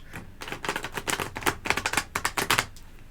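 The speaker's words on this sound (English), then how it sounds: "I'm going to give it one more shuffle." Tarot cards being riffle-shuffled, producing rapid, crisp papery clicks in several quick bursts that stop and restart, close and fairly quiet, with no talking.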